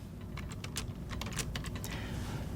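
Rapid clicking of keys on a computer keyboard, irregular bursts of keystrokes over a steady low background hum, fairly close.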